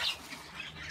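Parrots at a bird-feeding spot give a brief, harsh squawk, loud and close at the start, followed by a scratchy chatter of calls.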